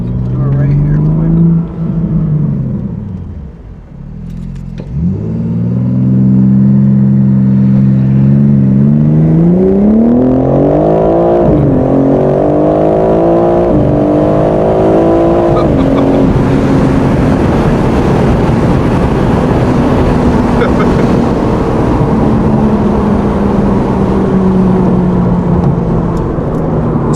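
A BMW M car launches hard with launch control, its engine climbing through rising revs in a loud, continuous roar, then settling into a sustained high-speed drone with road noise.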